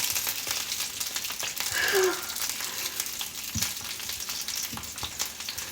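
Sausages sizzle in a frying pan, a steady close crackle and hiss with a few soft scrapes and taps as tongs turn them.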